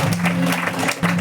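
Audience applause in a hall as an achiever is welcomed onto the stage, a dense steady patter of many hands clapping over a sustained musical tone, loud and close for a brief moment.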